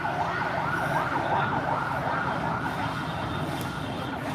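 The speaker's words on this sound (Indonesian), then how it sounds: "Itu ambulan, Papa, ambulan. Ambulannya lewatnya" An ambulance siren wails in a steady repeating up-and-down cycle as the vehicle passes on the road, loud and continuous over traffic rumble.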